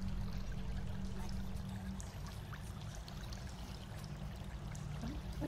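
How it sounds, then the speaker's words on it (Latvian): Water babbles and trickles through a small stream in a steady, unbroken flow, heard alone with a low hum underneath and no voices. "Tu dzirdi, kā mutļo ūdens šai strautiņā"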